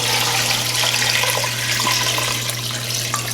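Water pours steadily from a tap into a cooking pot, filling it to cover pig's feet for barbecue, with a continuous close splashing rush and no pauses.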